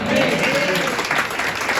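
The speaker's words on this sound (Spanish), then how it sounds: "Fuerte el aplauso." A church congregation gives loud, sustained applause, with voices mixed in under the clapping.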